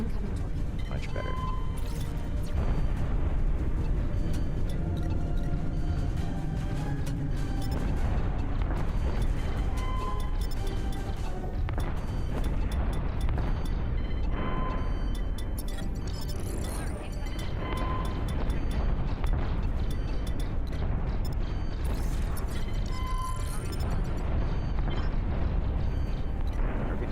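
Torpedo blasts in a space combat sim game land as repeated deep booms and rumbling bursts amid dense, constant battle noise, with game voices talking over the mix.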